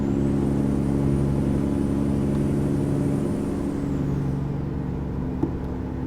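A semi truck in American Truck Simulator cruising along a highway at about 65 mph, with a steady loud engine drone and road rumble, a faint high whine that fades, and a small click near the end.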